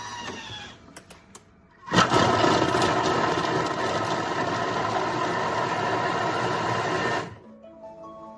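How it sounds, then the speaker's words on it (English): A food processor chops fresh ginger with salt at speed 5, a loud steady whirring motor burst lasting about five seconds, starting abruptly and cutting off cleanly, with quiet kitchen handling before and after. "it's just going to chop it now for 5 seconds at speed 5"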